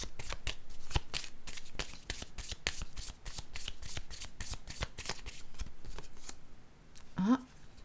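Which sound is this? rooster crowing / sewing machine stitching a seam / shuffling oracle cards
shuffling oracle cards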